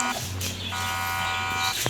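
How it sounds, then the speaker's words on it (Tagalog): An alarm blares in a break-in horror game, a steady harsh electronic buzz that runs continuously and loudly with no talking over it. "Alarm is going off."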